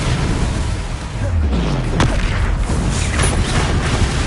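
The Expelliarmus spell is cast in the Hogwarts Legacy video game, a short whooshing burst with a low boom, loud over steady game background noise.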